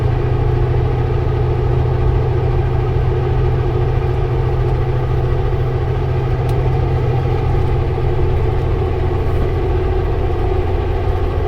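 An empty semi truck climbs a hill in the Okanagan between Oliver and Penticton, its engine a steady, loud, droning rumble with constant road noise and no break.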